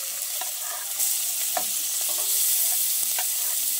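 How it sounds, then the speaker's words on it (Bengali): Chopped onion sizzles and crackles in hot oil with tempering spices, a steady close-up frying hiss broken by a few scrapes of a stirring spoon, with no talking. "ফোড়ন কয়েক সেকেন্ড ভেজে নিয়ে এবার কুচিয়ে রাখা পেঁয়াজটা দিয়ে দিচ্ছি।"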